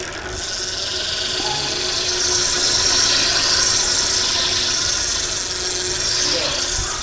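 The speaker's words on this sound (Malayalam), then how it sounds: "നമുക്കിനി ഹബിൻ്റെ സൗണ്ട് കേൾക്കാം." A Mascot Chimera beginner BMX bike with a KMC chain has its hub spun, giving a steady, close whirring buzz with a high-pitched edge that runs continuously for several seconds, alone without talk.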